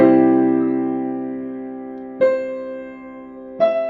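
Piano plays a harmonized melody of the hymn God is so Good, a sustained chord ringing out and slowly decaying, followed by two more struck chords at a measured pace, clear and close with no voices.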